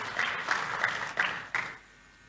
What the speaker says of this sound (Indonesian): Tepuk tangan dulu yang meriah buat Tuhan Yesus.